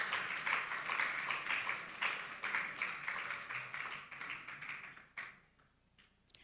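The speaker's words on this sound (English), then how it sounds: "Please, a round of applause." A conference audience applauds with a dense, steady burst of many hands clapping, which thins and dies out after about five seconds into near quiet with a last stray clap.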